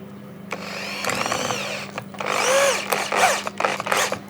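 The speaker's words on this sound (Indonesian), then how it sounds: "gimana sih mesin bor kayak gini, yang kabel murah gini kalau dipakai untuk proses penyekrupan" A cheap corded Dongcheng DJZ10-10 drill whirs in several short bursts, pitch rising and falling as it drives a screw into sonokembang wood, with a steady hum underneath.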